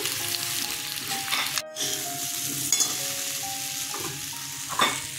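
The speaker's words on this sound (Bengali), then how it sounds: "আবার সর্ষের তেল দিচ্ছি। এখন আলুটা ভেজে নেব।" Potatoes frying in mustard oil with turmeric and salt in a kadai, a steady close sizzle with stirring scrapes, a brief silent gap partway through, no talk.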